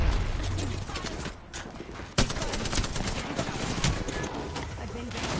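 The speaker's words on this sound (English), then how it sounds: "The enemies are shooting at me." Enemy gunfire in the video game Apex Legends, rapid bursts and scattered shots crackling continuously, with a player talking over the fighting.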